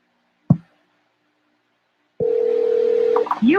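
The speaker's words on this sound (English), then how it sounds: "Okay, so we're gonna call LaShonda." A telephone call being placed: a single sharp click, a pause of silence, then a steady electronic tone of about a second followed by brief beeping tones, close and clear.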